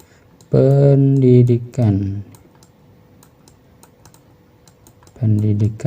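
Several faint, sharp computer mouse clicks are scattered between and under a man's speech during a presentation.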